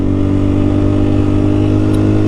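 A 2023 KTM 500 EXC-F dirt bike engine hums loudly and steadily at a low, even speed while being ridden, a constant close drone with no voices.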